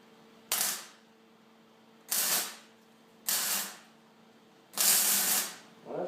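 Four short bursts of tack welding on a metal piece, each a loud, hissing-crackling blast lasting about half a second to a second, separated by quiet gaps, heard close with no talking.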